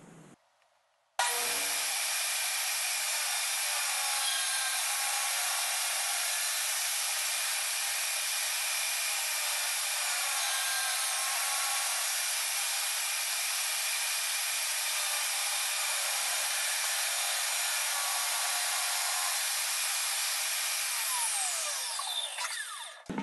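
A power saw rips through an expensive walnut board, starting abruptly and then holding a loud, steady, hissing whine for about twenty seconds before winding down at the end, with no one talking.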